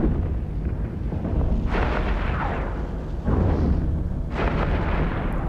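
Heavy battleship weapons in EVE Echoes blast an Apocalypse, a dense roaring barrage with three big booming surges over a constant rumble, loud and continuous with no voice over it.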